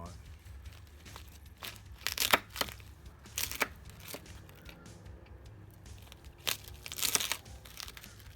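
Bone-in pork belly with crackling, cooked on a Kamado Joe, being cut between the bones, giving several sharp, close crunching and crackling bursts in irregular clusters, with a voice speaking quietly at times.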